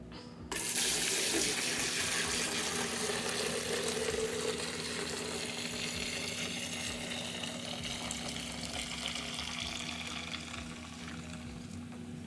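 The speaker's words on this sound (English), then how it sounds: "you're ready to pour the fresh pressed cider in" Fresh pressed apple cider pours steadily into a five-gallon fermenter, a continuous close splashing stream that runs for several seconds and then eases slightly.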